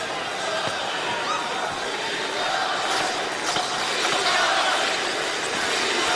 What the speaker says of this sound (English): Well, they try and cheer him home in this first round.